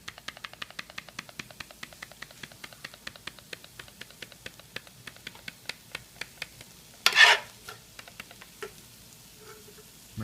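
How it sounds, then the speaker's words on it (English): Diced potatoes are stirred with butter and a seasoning packet in a steady, even rhythm of soft scraping strokes. A short louder rustling burst cuts in near the end, and no one talks. "The seasoning packet, you're going to put this in here and stir it up really good."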